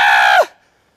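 A voice imitates a high-pitched girl's scream: one loud, shrill shriek held briefly, then sliding down in pitch and cutting off into silence.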